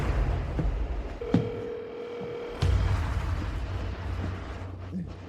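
An unanswered phone call rings out as a single steady, fairly soft ringback tone lasting under two seconds, set against low rumbling background noise in a dramatic scene where people talk.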